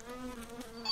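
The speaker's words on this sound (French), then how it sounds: "Oh, il y a des mouches." Flies buzz close by in a short, faint burst, a wavering drone with shifting pitch and no talking over it.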